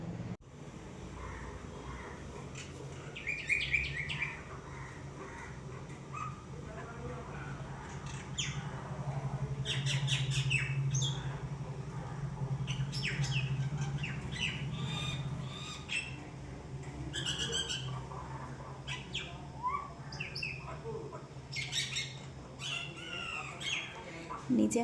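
Harsh squawking calls from a bird after feeding, repeated in short bursts over a steady low hum and rustling background, moderately near.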